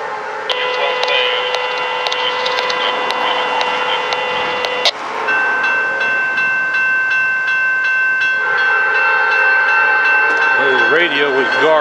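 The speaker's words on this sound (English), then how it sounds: "I'm not sure what train this is." A train passing, its horn sounding sustained tones over a continuous rumbling roar of rail cars that stays loud and close throughout.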